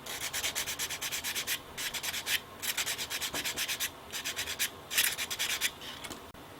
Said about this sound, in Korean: 지금 사포질을 해서 위아래 많이 곱게 했는데